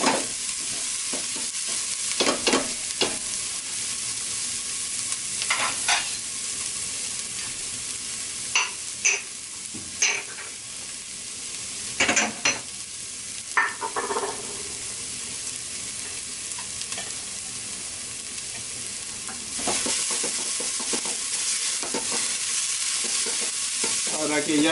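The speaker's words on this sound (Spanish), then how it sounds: "Voy a cocinar un poquito más la cebolla con las hierbas y la zanahoria" Onion, herbs and carrot cook in a pan with a steady low sizzle, broken by scattered sharp scrapes and knocks of a utensil stirring, louder in brief bursts, with no talking.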